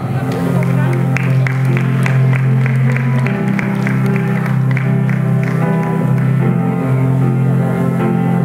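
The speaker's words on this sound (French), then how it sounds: "Applaudissements pour mademoiselle Sonia." An audience applauds a performer named Sonia at an evening show, steady clapping under loud sustained music throughout.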